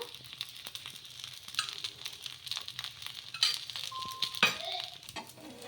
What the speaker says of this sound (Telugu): ఇప్పుడు కొంచెం ఇలా పైన నూనె అనేది వేసేసుకుందాము